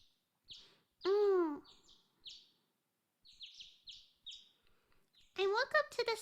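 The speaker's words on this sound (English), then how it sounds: "I woke up to the sound of birds chirping" Video game birds chirp in a quiet scene, with short bright tweets and a few longer warbling calls scattered across the stretch, fairly clear and close with silence between.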